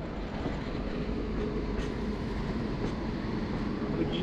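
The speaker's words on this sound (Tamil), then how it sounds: "வண்டி வெளியே வந்துருச்சு ட்ராக் விட்டு." A passenger train rolls out along the track on a Chennai to Erode run, a steady close rumble of wheels and carriage noise continuing evenly throughout with no talk.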